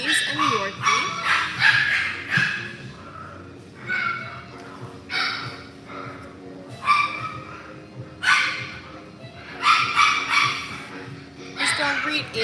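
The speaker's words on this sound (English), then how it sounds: "We're looking at our Morkie Puppies. These are all boys." A litter of young Morkie puppies, a Maltese and Yorkshire terrier cross, yips and barks in repeated bursts of high-pitched barking with whimpers between them, while a person talks over them.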